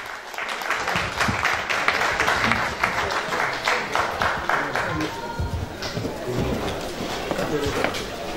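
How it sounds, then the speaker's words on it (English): Audience applause at a formal gathering, a steady patter of many hands clapping at moderate volume with a speaking voice over it. "Another applause, please."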